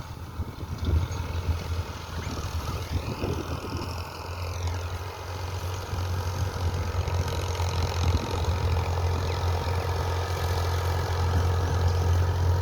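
A Made-in-Pakistan Al-Ghazi 65 HP tractor engine runs on damp farmland, a steady low, throbbing idle close by that grows slightly fuller and louder toward the end.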